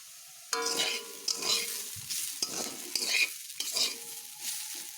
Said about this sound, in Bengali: আলুগুলোকে এইভাবে ভাজছি